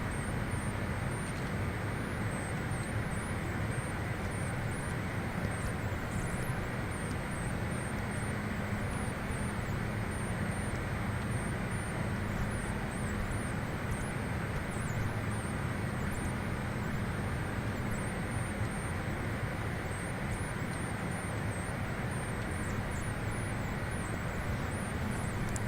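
Steady, continuous idle whine and rumble of CRJ550 jet engines in a flight simulator, with a thin high-pitched tone riding above a broad low roar throughout, no talk.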